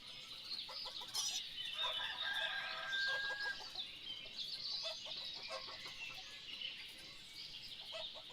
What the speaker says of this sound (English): The way the chickens provide a sort of musical soundtrack to this dance that they do.